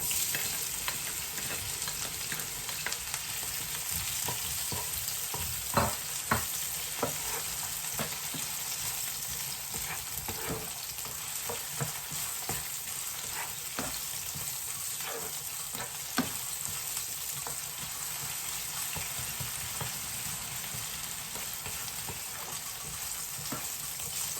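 Onion sautéing in a pan with golden-brown garlic for a tomato and shrimp paste dish, a steady close sizzle with occasional scraping stirs and clicks of a utensil against the pan, no talking.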